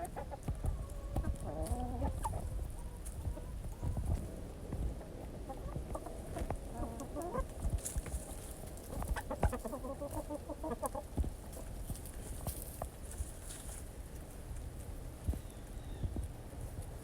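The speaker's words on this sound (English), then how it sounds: "Some hens are still finishing up the molt." Hens cluck steadily in a backyard flock in winter, some still finishing their molt, with overlapping soft clucks and occasional louder calls close by over a constant outdoor background.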